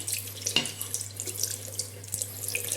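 A kitchen tap runs steadily over a Spyderco Sharpmaker ceramic rod being rinsed, a close continuous splashing flow with small clinks and shifts as the rod moves under the stream.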